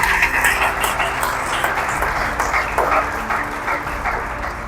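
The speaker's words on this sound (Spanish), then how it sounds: "Un aplauso para ellos también" A church congregation applauds in a reverberant hall, a moderate wash of clapping with a few sharper claps and faint voices mixed in, continuing steadily throughout.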